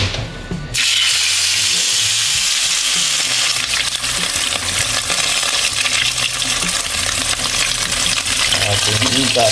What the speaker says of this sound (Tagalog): Masarap din po yung igat i-prito. Yung ating kawali ay non-stick naman po yan.